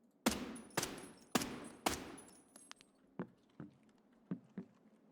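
Enemy gunfire in the video game Escape from Tarkov: a rapid burst of four loud, close shots, followed by scattered fainter cracks and distant pops trailing off.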